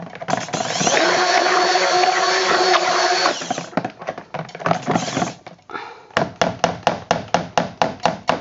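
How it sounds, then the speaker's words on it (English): A blender whirs loudly and steadily for a few seconds mixing cold process soap batter with fragrance, then stops; a run of sharp, evenly spaced knocks or pulses follows. "I always mix everything in with me blender, always."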